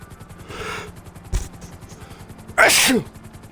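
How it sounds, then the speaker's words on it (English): A sharp inhale builds up, then a single loud, explosive sneeze near the end over a faint rhythmic hum in the background. "Felt that sneeze coming."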